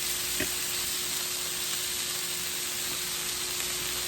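Shrimp kabobs sizzle on a grill with a steady, soft hiss that stays even throughout, plus a faint tick or two, and no one speaks.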